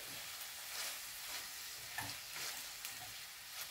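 Mushroom stuffing mixture seasoned with chili flakes and black pepper being stirred in a pan, with soft scraping strokes over a faint sizzle, steady and close, no voices.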